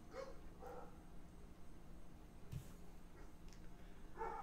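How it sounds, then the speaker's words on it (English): Faint, distant neighborhood dog barks, a few scattered yelps over a quiet background hum. "There's dogs barking."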